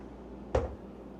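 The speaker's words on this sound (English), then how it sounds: "close that door behind us and close this door behind me here" An interior door on a 2025 Foretravel Realm LVB motorhome swings shut with a single short, fairly soft thud and a brief rattle, set against a quiet room.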